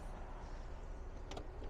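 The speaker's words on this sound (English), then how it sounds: "now the power door is closing" The power side door of a Chrysler Voyager wheelchair-accessible van closes with a quiet, low motor hum, then a couple of sharp latch clicks near the end.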